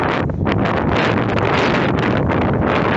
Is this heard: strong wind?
yes